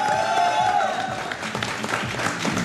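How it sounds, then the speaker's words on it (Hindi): An audience in a television studio applauds, a dense, steady wash of clapping running throughout, with a faint tone and some voices underneath. "सुनील भाई के लिए तालियां बजा देते हैं"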